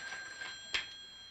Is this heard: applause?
no